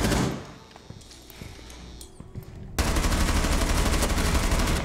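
Video game gunfire: a few scattered thumps and clicks give way to a sudden, loud, sustained burst of rapid automatic shots that continues to the end.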